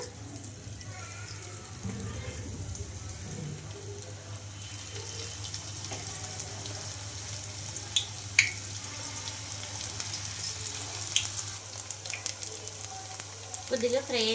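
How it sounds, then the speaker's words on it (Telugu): Wheat flour snacks shallow-fry in a small amount of oil, giving a close, steady sizzle with intermittent clinks and stirring, plus a brief water-like splash near the end. "ఇక్కడ షాలో ఫ్రై అయితే చేసుకుంటున్నాను ఎక్కువ డీప్ ఫ్రై లేకుండా"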